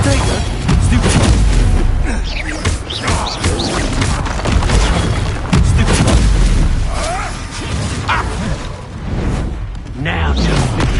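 Confringo fire spells detonate again and again in Hogwarts Legacy combat, loud booming blasts and crashes layered with whooshes in a dense, continuous barrage, with a voice talking over the chaos.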